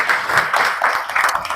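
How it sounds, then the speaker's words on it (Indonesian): Classroom students applauding their classmates, a short brisk patter of many hands clapping close by, steady and lively for a moment. "tepuk tangan untuk teman-teman kalian"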